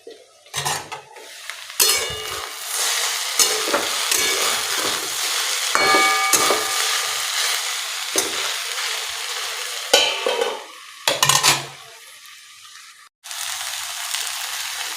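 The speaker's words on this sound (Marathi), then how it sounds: "भेंडी पूर्ण चिमटेपर्यंत असं झाकण ठेवूनच तिला शिजवायची आहे आणि थोड्या थोड्या वेळाने तिला परतून घ्यायची आहे" Okra (bhindi) cooking in a covered pan on the stove, with a steady sizzle and frequent clinks and scrapes of a spatula and lid as it is tossed, close and fairly loud, with short quiet gaps and no talking.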